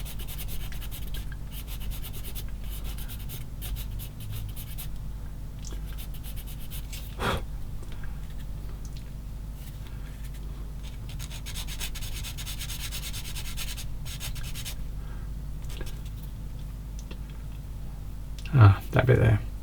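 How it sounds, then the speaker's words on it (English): A sanding stick rubs back and forth on a small plastic part of a 1/16 scale Takom M10 IIC Achilles tank destroyer model, a soft steady scraping running beneath a voice. "Get the old sander stick again. Get rid of that bit of the end."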